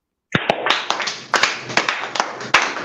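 Hand clapping at a live church broadcast: a burst of sharp, close claps in an uneven rhythm after a moment of silence, loud and alone with no talk.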